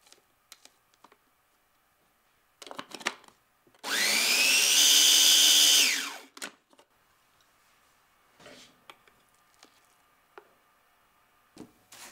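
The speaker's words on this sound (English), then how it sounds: "Add the peppers to the food processor and then puree everything together." Food processor pureeing peppers for Malaysian chicken satay, a loud high-pitched whirring burst of about two seconds that rises in pitch as it spins up, framed by soft clicks and handling noises.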